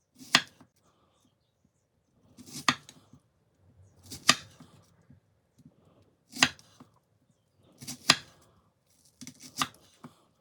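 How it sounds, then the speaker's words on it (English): A knife dices an onion on a cutting board in six crisp, evenly spaced chops about two seconds apart, close and clear against near silence. "Dice the onion."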